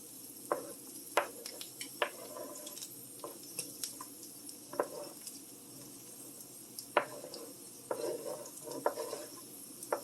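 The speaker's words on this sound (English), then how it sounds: "This is now at a raging boil. Grab my spoon and slide all the onions in." Onions being slid into a pot of soup at a raging boil and stirred with a spoon, faint scattered scrapes and knocks over a low bubbling hiss, close and quiet with no talking.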